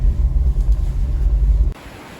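Boulder Creek runs fast and hard with spring runoff, a loud, steady, low rushing roar of water that cuts off abruptly near the end.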